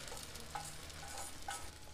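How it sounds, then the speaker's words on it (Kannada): Washed poha stirred into a hot tempering in a pan, a soft low sizzle with a few scraping strokes of the spoon. Faint and close, with no talking. "ಸ್ವಲ್ಪ ಕೈ ಆಡ್ಕೊಳ್ಳೋಣ."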